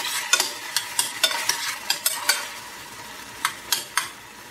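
Crushed tomatoes cooking down in a pan for a blue crab omelette, a soft sizzle punctuated by a dozen or so quick scraping stirs of a utensil against the pan, close and alone.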